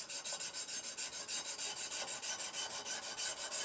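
A cleaning cloth is rubbed back and forth over a metal drawknife blade in quick, steady strokes, giving a soft, close, rhythmic swishing rasp with about five strokes per second and no talk.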